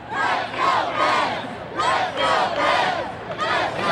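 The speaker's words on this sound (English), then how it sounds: "Here we got the chants going now." A large crowd at the Pittsburgh Penguins Stanley Cup victory parade chants loudly in rhythmic bursts, with about five surging shouts repeating over a few seconds.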